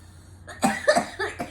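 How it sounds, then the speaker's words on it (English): A short burst of several harsh coughs in quick succession, close and fairly loud, with no talking. "now she's gonna have a coughing fit like her auntie always does"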